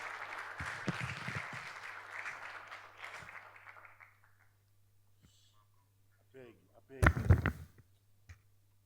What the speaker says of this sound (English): We can do better with that round of applause,